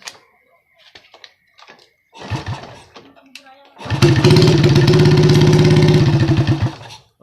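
A Honda Supra motorcycle engine being worked on for an oil pump check: a few clicks and a short cranking attempt, then it starts and idles with a steady close putter for several seconds before cutting off.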